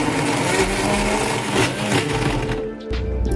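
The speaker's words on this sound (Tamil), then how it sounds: "பிளெண்டரில் frozen strawberries, pineapple slices, then ice cubes and brown sugar" A blender roars steadily as it blends frozen strawberries, pineapple slices, ice cubes, brown sugar and soaked chia seeds with water, a loud continuous grinding whir that cuts off briefly near the end.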